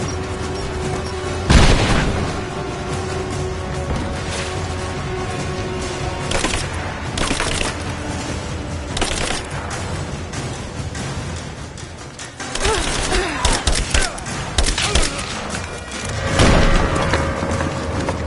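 Grenade explosions in the video game Rise of the Tomb Raider come as several loud booming blasts spread over the stretch, mixed with combat effects and mechanical clatter, close and heavy with no clear talk.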